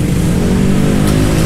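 A Yamaha Mio Soul scooter engine revs loud and close in a steady, sustained drone, with no other sound.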